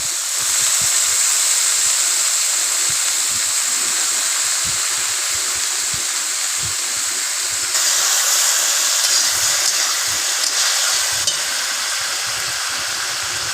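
Potato and eggplant frying in oil in a pan, a loud steady sizzle and hiss throughout with faint low scrapes of a spatula stirring underneath, close up.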